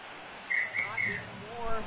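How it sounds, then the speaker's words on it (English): A referee's final whistle at the end of a Rugby 18 match, sounding as three short shrill blasts in quick succession over a low crowd murmur, with a faint voice trailing after. "And it's over, the final whistle"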